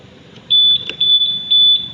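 A Euro Samurai 155i motorcycle's anti-theft alarm sounds a steady high-pitched electronic tone, pulsing louder in several bursts close by, with no talk.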